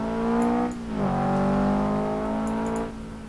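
A car engine in the racing game Assetto Corsa revs up, drops briefly, then climbs again in a sustained, steady whine, loud and close with no voices.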